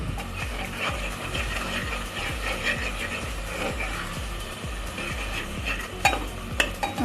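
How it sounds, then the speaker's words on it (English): Garlic and ginger sizzle steadily in a hot pan while a spoon stirs them in repeated rhythmic scrapes, close and continuous, with a couple of sharper clinks near the end. "once we add garlic, we'll just stir it for 10 seconds maybe"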